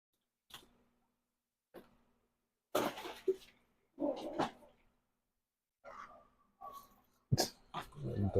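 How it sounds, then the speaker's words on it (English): Several dogs bark at a distance outdoors, in short separate bursts spread across several seconds, some faint and some louder, with a cough-like or breathy sound mixed in near the end. "Dogs barking over there."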